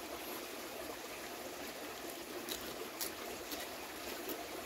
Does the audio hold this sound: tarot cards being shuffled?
no